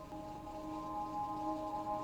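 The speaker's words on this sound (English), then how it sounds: "We then have this ambient drone" A dry ambient drone holds steady, sustained tones with a faint, slowly shifting texture, quiet and continuous throughout.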